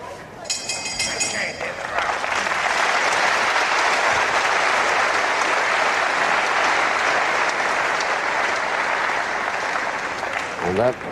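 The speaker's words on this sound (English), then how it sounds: "a lovely sound to hear the really appreciative crowd applause after a really good round by both men" A wrestling crowd at a World of Sport bout breaks into sustained, loud applause after a round between John Naylor and Robby Baron, clapping steadily for several seconds before tailing off at the end.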